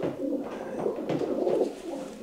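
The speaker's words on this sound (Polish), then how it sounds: "przepiękny gołąb" A male pigeon offered at auction coos softly and steadily, a low murmuring call repeating close by with no other sounds.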